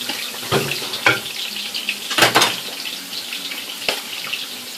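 Rinsing dishes in a kitchen sink under a running tap, a steady hiss of flowing water broken by a few splashes and clinks, close and moderate in level, with no voices.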